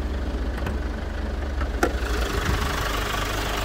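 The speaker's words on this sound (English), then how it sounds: "I can show you the engine." A 2010 Kia Sportage 2.0 CRDi diesel idles with a low, even rumble and a faint mechanical clatter, heard up close with the bonnet lifted, with a few light clicks and no speech.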